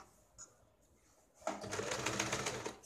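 After a quiet stretch, a sewing machine starts up and stitches a blouse lining in a steady, fairly loud run for the last half.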